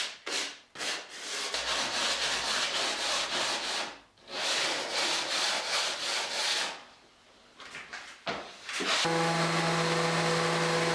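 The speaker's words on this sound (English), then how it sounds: "it's nice to just take a sanding block and just gently cut the edges of the panels" A sanding block rubbing along the router-cut edges of fiberglass boat panels, steady rasping strokes in a repeated back-and-forth rhythm with short pauses between passes, close and fairly quiet, ending as a tonal hum takes over.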